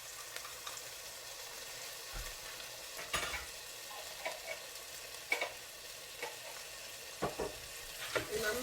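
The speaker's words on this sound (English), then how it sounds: "And I'm going to stir." Minced garlic fries in a pan with a steady close sizzle, broken by a few scraping stirs and light utensil knocks against the pan, with no voices.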